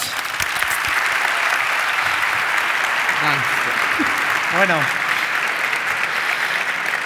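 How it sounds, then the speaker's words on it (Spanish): Audience applause at the T3chFest 2023 tech conference after a talk on artificial intelligence: dense, steady clapping fills the whole stretch while a voice speaks briefly over it midway. "Un aplauso"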